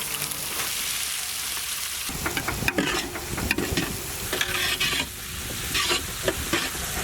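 Chopped onions frying in hot oil with cumin seeds and dried red chili, a steady close sizzle broken by scraping stirs and clatters from a spoon against the pan.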